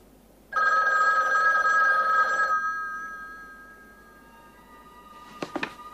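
Old-style telephone bell ringing indoors in a German-dubbed crime series: one loud, buzzy ring of about two seconds that fades out, followed by a few faint knocks or clicks near the end, no talking.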